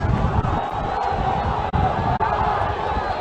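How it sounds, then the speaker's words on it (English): A large crowd yells and cheers continuously at the finish of a men's varsity eight rowing championship race, a loud, dense roar with a few brief dips, a commentator's voice mixed in. "The crowd certainly is out yelling me right now."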